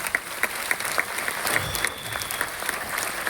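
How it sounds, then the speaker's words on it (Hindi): Loud audience applause for Salim sir at a live event: dense, sustained clapping from a crowd, steady throughout with sharp individual claps standing out. "जोरदार ताली सलीम सर के लिए।"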